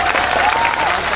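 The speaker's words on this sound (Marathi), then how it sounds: "एक भाऊ म्हणून सांगतो, त्यांच्यासाठी का जोरदार टाळ्या वाजवा" A crowd claps loudly and continuously at a protest rally, a dense wash of applause with no pause.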